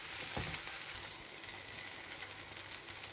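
Onion, eggplant and tomato curry fries in a pan with a steady close sizzle and a brief stir near the start, no voices.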